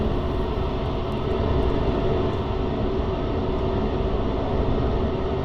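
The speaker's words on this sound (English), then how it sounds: "So what I'm going to do is I'm going to throttle up" An F-16 jet engine spools up in the DCS flight simulator game, a loud, steady, continuous roar that holds throughout without pauses.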